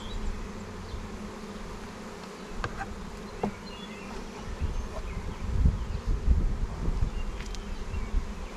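Honeybees buzz steadily and close by during a hive inspection, a dense hum with occasional rustling and handling noises.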